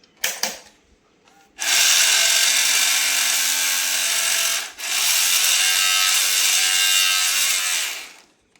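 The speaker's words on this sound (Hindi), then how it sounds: "तो अभी ये कोशिश कर रहा है कि कैसेट को इजेक्ट करने का, लेकिन कैसेट तो है ही नहीं" A 33-year-old VHS video cassette player's mechanism whirs loudly as it tries to eject with no cassette inside, a steady grinding motor drone in two long stretches after a few sharp clicks, close and alone.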